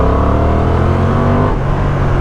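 The engine of a 2025 Honda Transalp motorcycle revs loud and steady in second gear on an off-road trail, holding a dense, continuous drone with slight fluctuation across the short span.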